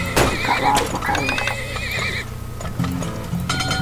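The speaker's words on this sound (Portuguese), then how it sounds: "Cavalo. Cavalo pra caramba." Horses in the video game Turmoil neigh and whinny loudly several times in a row, with clip-clop hooves and mechanical clicks and ratcheting around them.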